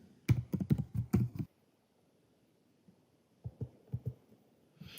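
An email address is typed on a computer keyboard: a quick burst of clicking keystrokes, a pause of near silence, then a few more taps, all close and crisp with no talk.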